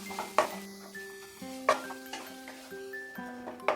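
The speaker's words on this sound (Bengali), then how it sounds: "ভালো করে সব কিছুকে মিশিয়ে নেব, আর এইভাবে একটু ম্যাশ করতে করতে মিশাবো।" Potato stuffing mixed with chopped coriander and mashed in a bowl, with repeated clinks and scrapes of a utensil against the bowl in a steady rhythm over light background tones.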